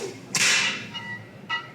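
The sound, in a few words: cartoon basketball swoosh sound effect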